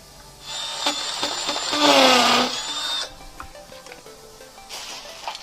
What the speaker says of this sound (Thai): ปรับได้นะครับสว่าน ปรับให้มันเป็นแบบกระแทกนะครับ เจาะปูน